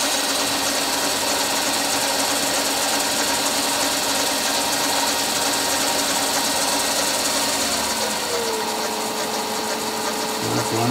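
A Smarty AT-300 machine runs steadily during a speed test at around 500 RPM, a loud continuous mechanical whir and hum with no pauses, its tone shifting slightly near the end as the speed changes.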